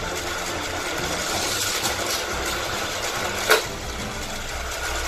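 Motorized supercharger booster on a living-room toy car track, a constant buzzing motor whir close by, with a small sharp click partway through.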